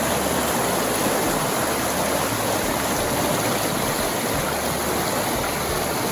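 Clear river in the Japanese countryside near a confluence of tributary and main channel, a steady broadband rush of flowing water that stays constant and fairly loud throughout, with no voices.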